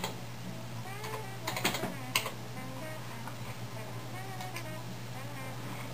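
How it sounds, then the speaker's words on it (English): Computer keys are tapped in a short series of soft, close clicks over a steady background hum, with a brief cluster of quick taps in the middle and no talk. "so I'm just going to type in London."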